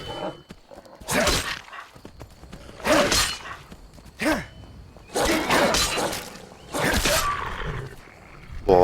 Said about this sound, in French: Oh, un loup.